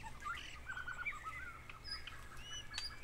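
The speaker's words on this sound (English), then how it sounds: "I now know they're brown-cheeked fulvetters" Brown-cheeked fulvetters calling at a bird hide near Kaeng Krachan National Park, Thailand: a series of thin, high chirps and short trills, fairly close, over quiet background hum.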